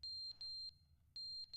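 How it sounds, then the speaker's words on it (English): Shrill low-battery beeps from a smoke detector come in two quick clusters separated by a short gap, close and piercing over a faint low rumble. "Smoke detector needs new batteries"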